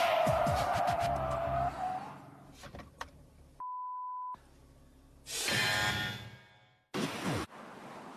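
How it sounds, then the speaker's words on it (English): A car swerving and braking hard at 80 km/h on a driving course, with tires squealing and skidding in loud bursts separated by a beep and brief gaps. "At 80 kilometers an hour, Dean swerves to avoid the pop-out car, but he hits the brakes before the car is stabilized"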